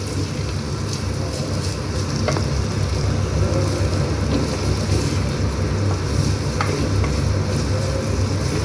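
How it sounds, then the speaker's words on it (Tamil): Two medium onions fry in a clay pot for a spicy kara kuzhambu, giving a steady, close sizzle throughout with occasional faint scrapes from stirring. "2 மீடியம் சைஸ் வெங்காயம் சேர்த்துக்கலாம். இது எல்லாத்தையும் 2 நிமிஷம் நல்லா ஃப்ரை பண்ணிக்கலாம்."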